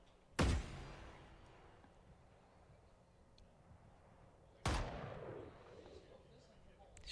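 Gunfire in an esports video game match: two sharp, loud single shots several seconds apart, each with a short ringing tail over a quiet background.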